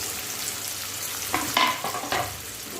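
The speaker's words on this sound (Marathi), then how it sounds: "आपण आता याच्यामध्ये जो मी एक कांदा कट केला होता बारीक तो फ्राय करून घेणार आहे" Chopped onion frying in hot oil for a dry kurdai vegetable dish, giving a steady close sizzle with a few sharper crackling bursts as it is stirred.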